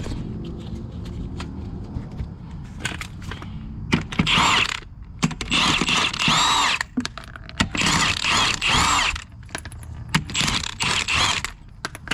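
Milwaukee power ratchet loosening front brake bolts on a 2021 Jeep Wrangler: several bursts of loud, rapid mechanical whirring and clicking, separated by short pauses, over low workshop background noise.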